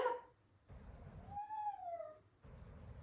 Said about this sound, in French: Mes deux chats sont en train de courir partout.